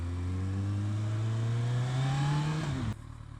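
A 2014 Kawasaki ZZR1400 Performance Edition motorcycle with a 1.4-litre inline-four engine revs up in traffic, pitch climbing steadily and loudly before dropping off abruptly to a lower idle near the end.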